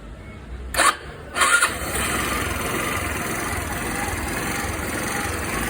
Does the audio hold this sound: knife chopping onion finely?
no